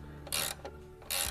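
Tightening the chain adjuster on a KLR650 motorcycle gives two short bursts of ratcheting clicks, close and quiet, with a brief pause between them.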